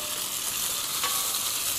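Ginger stir-fried with rock sugar and doubanjiang sizzles steadily up close, a continuous bright frying hiss with light stirring scrapes and no voices.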